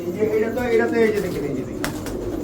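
Pigeons coo in low, throaty murmurs close by, with a voice speaking over them and a brief rustle near the end.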